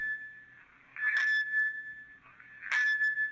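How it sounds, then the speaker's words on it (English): A bell heard through a handheld recorder, sounding like a dropped metal pipe: a sustained thin ringing tone with two sharper clanging strikes about a second and a half apart, moderately loud and alone. "That's the sound of the bell."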